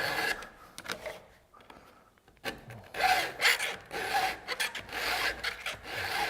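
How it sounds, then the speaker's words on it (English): A round file rasping across a chainsaw chain with a hand sharpener, giving repeated close gritty scraping strokes separated by quieter pauses where the file slides back without cutting. "Now on the backstroke, I'm not filing."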